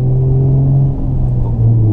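A Nissan 350Z cruises along a straight road, its engine a steady low rumble with faint whirring tones, holding an even loudness throughout with no voices.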